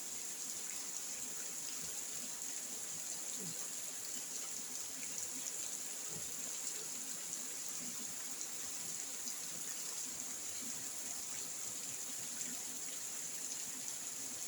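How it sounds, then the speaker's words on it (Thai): Heavy rain comes down in a soft, continuous patter, with occasional louder drops and splashes over a faint steady hiss and a constant high tone. "ฟังเสียงฝนเด้อพี่น้อง"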